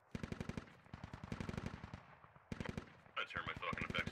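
Gunfire in the video game SquadOps, rapid automatic bursts in several long strings with short pauses, loud and close, ending in a harsher crackling burst.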